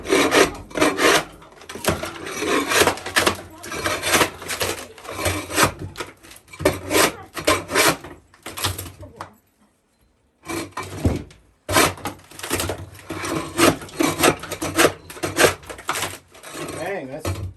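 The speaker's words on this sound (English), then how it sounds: "so we're just going to scrape it off." Parquet flooring being scraped off an underlying vinyl floor with a hand tool in a living room remodel: repeated loud, rasping scrapes with wood cracking, in bursts with a short pause midway, close up.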